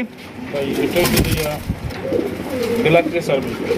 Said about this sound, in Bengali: ব্ল্যাক রেসার কবুতর মাশাআল্লাহ মাশাআল্লাহ